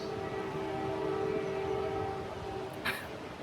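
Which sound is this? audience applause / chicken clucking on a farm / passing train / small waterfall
passing train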